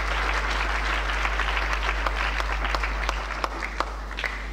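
A church congregation clapping to acclaim the word of the Lord during a sermon on the power of faith: sustained, dense applause from many people, with a low steady hum underneath and a few sharper individual claps standing out as it thins near the end.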